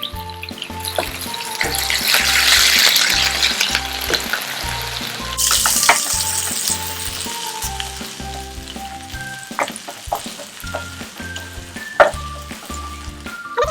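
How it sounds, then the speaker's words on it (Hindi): Ginger garlic paste fries in hot oil in a pan for chicken jalfrezi, giving a steady, loud sizzle with occasional scrapes and clinks of stirring throughout. No one speaks. "अदरक लहसुन का पेस्ट फ्राई हो चुका है"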